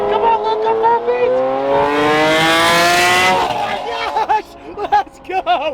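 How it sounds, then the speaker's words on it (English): A Lamborghini Aventador V12 roars past, its loud engine note climbing steadily in pitch for several seconds before cutting off abruptly, followed by scattered crowd noise and short bursts of engine sound. "That Aventador is so loud, you can't even hear the Luso."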